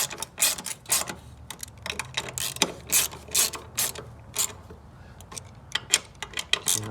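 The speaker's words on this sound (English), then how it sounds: "just tightening down the fluid reservoir to 10 mil." A ratchet tightens a 10 mm fastener on a car's clutch master cylinder fluid reservoir, giving quick bursts of sharp, close metallic clicks in an irregular rhythm with brief pauses between strokes.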